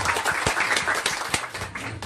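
Clapping from an audience at an Islamic school gathering, dense and irregular with a few sharper individual claps, steady for about two seconds.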